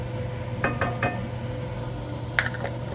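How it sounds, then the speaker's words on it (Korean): Minced garlic being stir-fried in a pan for fish cake stir-fry, with a utensil scraping and clinking against the pan in a few sharp taps over a low sizzle. "다진 마늘 볶아줘요"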